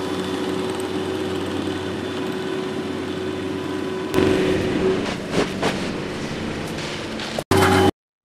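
A mini skid steer's engine drones steadily nearby, its tone shifting as it works, with a few knocks and a brief cutout near the end.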